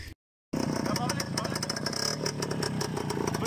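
Voskhod motorcycle engine running right after being started, a close, rough mid-pitched idle with rapid uneven pulses following a short silence, people talking over it.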